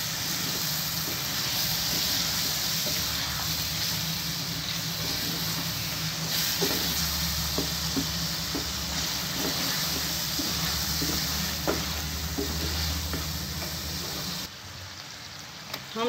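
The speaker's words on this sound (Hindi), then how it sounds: "थोड़ी सी हम यखनी डालेंगे ताकि जो है ये हमारे मसाले जले ना" Yakhni stock poured into frying masala for koyla karahi sets off a loud, steady sizzle and hiss that runs almost unbroken, then drops off sharply near the end.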